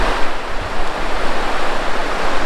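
A river at the Metcalf Bottoms picnic area in the Smoky Mountains rushes with a steady, full broadband wash, with a slight surge and fall and no voices.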